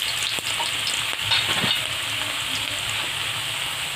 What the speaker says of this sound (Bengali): প্রথমে আমি আলুটা দিয়ে ভালো করে ভেজে নেব।